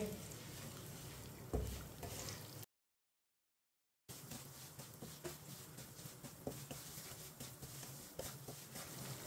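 Semolina roasts in a pan for egg suji halwa, a soft continuous sizzle and gritty scraping of a stirring spoon, close and quiet, broken by a brief dropout of total silence midway.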